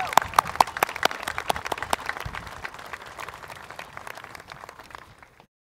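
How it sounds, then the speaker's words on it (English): An audience at a community college commencement ceremony applauds the faculty. The clapping is dense and sustained, with a few louder claps standing out near the start, then tapers off and ends after about five seconds. "Let's give our faculty a round of applause."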